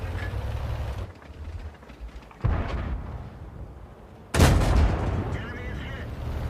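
A Swedish STRV M-41 tank gun fires in the World of Tanks game, with two sharp booming shots a couple of seconds apart standing out over a constant rumbling engine and battle din.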